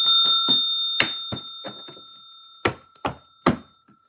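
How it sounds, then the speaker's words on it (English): A bell rings three quick times in a sustained, bright tone, followed by several dull knocks and thumps, loud and close with no talking. "Need the bell."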